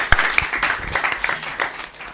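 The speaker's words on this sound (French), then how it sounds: "Applaudissez encore pour vous-même." Applause at an awards ceremony: a short burst of clapping with a few sharp, close claps standing out above a looser patter from the audience.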